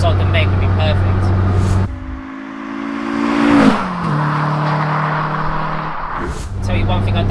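Renault Clio 172 engine droning steadily while driving at speed, with a shift where the revs drop and climb again through gears, loud and close inside the cabin.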